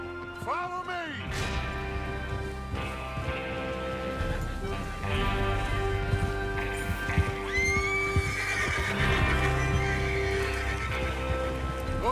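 Several horses ride and neigh in Red Dead Redemption 2, with repeated whinnies and rhythmic clip-clopping hooves over background music and a rain-like hiss, fairly quiet overall.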